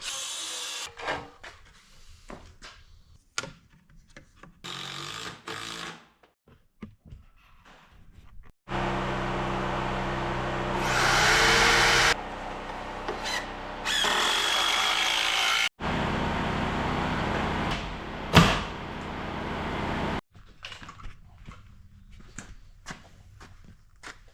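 A power tool cuts through wooden stair steps in long, loud, sustained buzzing passes, with quieter handling clatter and footsteps before and after.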